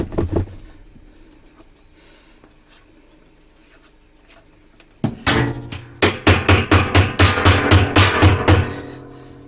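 Quiet stretch, then a burst of sharp metallic hammer blows on the basket drive hub of a Maytag MVWC415EW1 washer, settling into a steady rhythm of about ten close, loud strikes.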